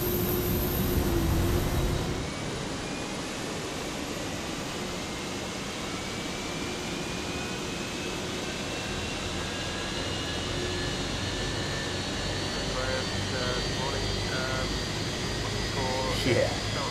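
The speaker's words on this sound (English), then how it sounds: "so we can go engine one start" Airbus A320 jet engine spooling up during engine start in a flight simulator: a steady broadband roar with a slowly rising whine that climbs throughout, continuous and moderately loud, with a brief burst of talk at the start.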